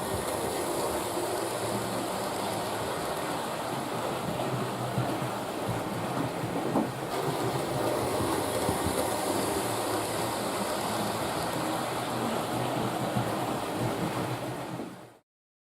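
A Hornby Dublo West Country Class model locomotive hauling coaches on a layout makes a steady, dense rumbling and rushing whir that runs continuously at an even level before stopping abruptly.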